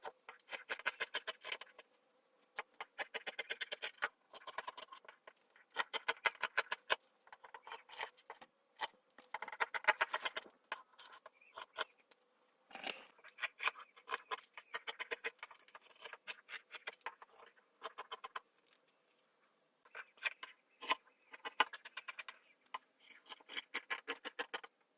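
Scissors snip through old fabric in bursts of crisp, rhythmic cutting while pattern pieces for a sewing project are cut out, with short pauses between runs of strokes, close and clear with no talking.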